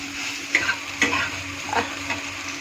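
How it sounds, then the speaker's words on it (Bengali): Soybean chunks frying in a wok under a steady sizzle, with a few sharp scraping stirs of a spatula spaced about half a second apart, close and moderately loud. "এখন দেখো নেড়ে চেড়ে ভালো করে ভেজে নামাবো"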